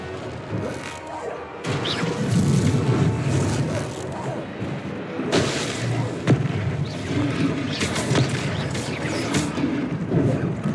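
Explosive Confringo blasting spell in Hogwarts Legacy, a series of loud booming crashes and smashes over dense battle noise, with a heavy impact burst around the middle.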